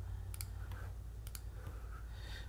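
A computer mouse clicking, quiet sharp double clicks at two spots and a lighter single click between them, close up over a low steady hum.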